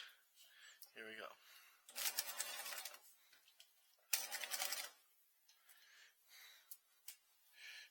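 Sewing machine stitching a waistband onto a skirt with a half-inch seam, two short bursts of fast mechanical whirring separated by quieter handling sounds.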